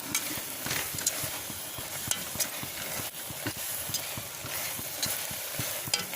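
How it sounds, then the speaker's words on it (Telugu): Grated coconut cooks in thickening sugar syrup for a coconut sweet, stirred continuously with rhythmic spoon scrapes and soft taps against the pan over a low bubbling sizzle, close and steady throughout. "ఇది బాగా చిక్కబడేంత వరకు, పాకం దగ్గర పడేంత వరకు కలబెట్టుకుందాం."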